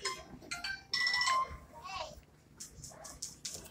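A phone ringtone sounds in short tonal bursts on a computer and a phone, with a dog and people's voices around it in a busy room.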